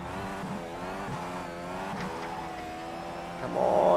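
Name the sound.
Dallara Indy car engine in a racing video game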